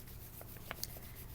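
Faint rubbing and squeaking of an eraser over a small whiteboard in short quick strokes, quiet and close, with no talking.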